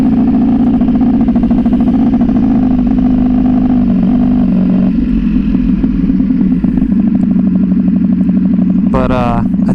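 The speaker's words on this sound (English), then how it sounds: "I really want to find a spot where I can rev it high a little bit, accelerate" A tuned Ducati Panigale V4 motorcycle engine idles loudly and steadily up close with a deep, lumpy throb, the pitch shifting slightly midway, and a voice speaks briefly at the end.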